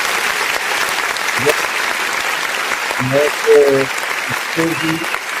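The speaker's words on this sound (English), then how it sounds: "I beg clap for them." Sustained applause from an audience, a dense steady patter of many hands clapping, with a voice speaking over it in short bursts.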